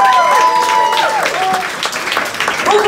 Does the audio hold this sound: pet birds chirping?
no